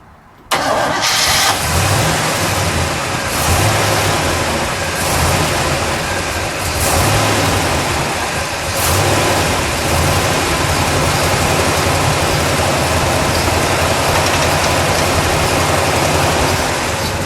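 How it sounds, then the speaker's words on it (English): A 1968 Oldsmobile Cutlass S W-31 350 V8 engine cranks and catches, then settles into a loud, steady idle with a deep rumbling throb that continues close by. "let's fire it up. Let's listen to it idle."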